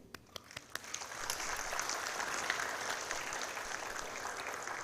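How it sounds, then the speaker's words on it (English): Symposium audience at a diabetes event giving warm applause, starting with a few scattered claps and swelling into steady, fairly distant clapping from the room. "a warm appreciation applause to every member of the youth arm who's here today"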